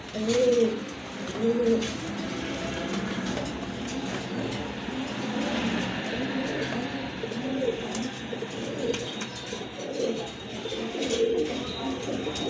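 Pigeons coo close by in soft, repeated calls over a low, continuous rumble in the background.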